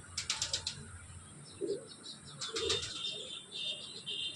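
Kerala breed pigeons in a loft give soft, low coos over quiet ambient noise, with a few faint chirps and brief wing flutters scattered between them.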